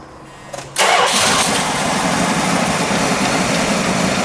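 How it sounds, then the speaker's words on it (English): A 1978 Dodge Magnum XE's engine cranks briefly, catches with a sudden roar, and settles into a loud, steady idle close by. "let's start her up and we'll get a little exhaust note"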